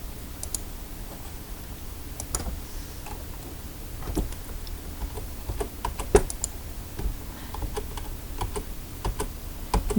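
Soft, irregular clicking of computer keys being typed nearby, steady taps scattered over a faint background hum.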